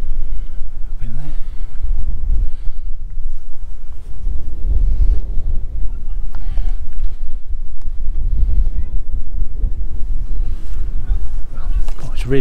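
Heavy wind buffeting the microphone outdoors at an aviation museum, a constant low roaring rumble with gusty surges throughout.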